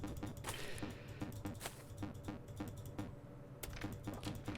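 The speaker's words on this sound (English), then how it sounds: "I don't know how much my mouse clicks come through on the recordings" A computer mouse clicking repeatedly during a ranch simulator game, with sharp, close, fairly steady clicks over a low background hum and no talking.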